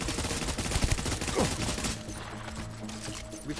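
Dense, rapid gunfire crackles in the video game Death Stranding, a continuous volley of overlapping shots for about two seconds that then thins out into a quieter background.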